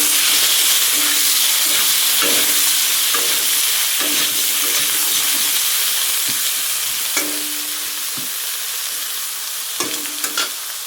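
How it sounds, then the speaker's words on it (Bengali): Eggplant sizzles steadily in hot oil in a pan, a continuous loud hiss broken by intermittent scraping stirs as the pieces are turned. "বেগুনটাও ভাজা করে নেব অল্প ভালো করে।"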